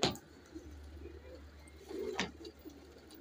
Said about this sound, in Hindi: देखें कैसे कैसे कबूतर अच्छे अच्छे बैठे हुए हैं।